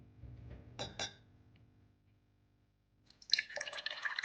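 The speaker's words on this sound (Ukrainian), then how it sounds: "У пусту склянку наливаємо воду." Water pours into an empty glass, with a short splash and drip early on, a quiet pause, then a steadier, brighter trickle of liquid filling the glass, close and fairly quiet.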